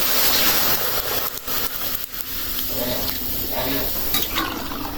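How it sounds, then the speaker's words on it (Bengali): Water poured into a hot wok just used to fry dried fish erupts into a loud rushing sizzle, with scraping and bubbling that stays close and steady, then settles slightly. "এই যে এখন দিয়ে দিলাম পানি"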